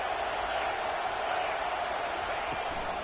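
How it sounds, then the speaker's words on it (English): A home crowd at a Nebraska at Oregon college football game roars loudly in a dense, continuous wash of cheering that fills the stadium without letup. "how nice is it to have the home crowd going absolutely bananas?"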